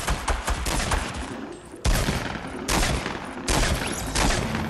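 Gunfire in the battle royale game Fortnite, loud bursts of rapid automatic shots in several long volleys with short pauses between them, close and dominant, no talking.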